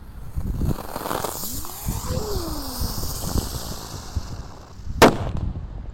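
A red terate firecracker goes off during Ramadan fireworks play, bursting with a sharp loud crack near the end, after a rising whistle-like sweep over steady outdoor background noise.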